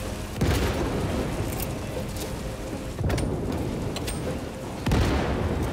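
Grenade explosions in the video game Space Marine 2 land as repeated heavy booms, three distinct blasts spaced a couple of seconds apart over a constant dense roar of battle.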